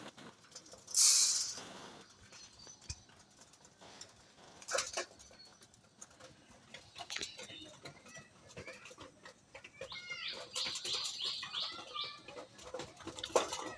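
Bursts of wing flapping from Raj Golla pigeons, close and fluttery, with soft cooing and scuffling in between; one loud flurry stands out early.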